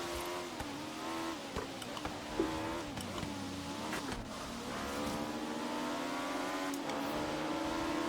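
An Ariel Atom 500 V8 in Forza Horizon 3 drones through a sustained engine note that rises and shifts pitch as it accelerates, with brief tire noise mixed in, loud and continuous.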